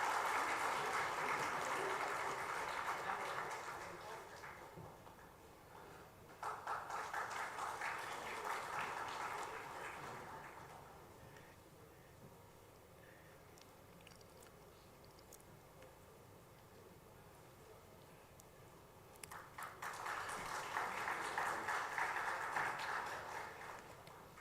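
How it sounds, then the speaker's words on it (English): Audience applause at a memorial lecture, rising in broadband bursts at the start, again around six to ten seconds and near the end, with quieter stretches of room noise between. "Can we have a round of applause"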